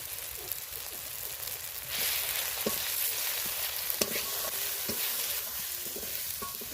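Ground turmeric, red chilli, cumin and coriander frying in oil for a shol lata fish curry, a soft, low-level sizzle with scattered clicks of a spatula stirring the masala.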